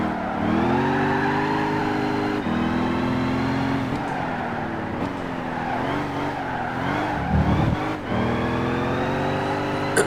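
A Buick Special muscle car in Gran Turismo 5 at Laguna Seca, engine droning loudly with tires squealing and spinning as it powers out of a corner, pitch rising and falling steadily.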